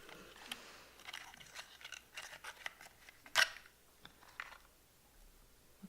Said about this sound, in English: Let's go ahead and rip into this.